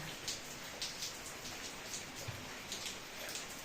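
Evening rain falls steadily across a garden with amla and chikoo trees, a soft, even hiss of drops with faint scattered patters, heard alone.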